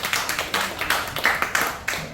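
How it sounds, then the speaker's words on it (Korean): Congregation in a church clapping in a quick, fairly regular rhythm of sharp hand claps, close and moderately loud with no talking. "박수 한번 쳐줘요."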